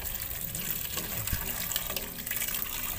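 Water gushes steadily from a tap into a pot for boiling medicinal herbs, a continuous splashing fill with small knocks, close and constant.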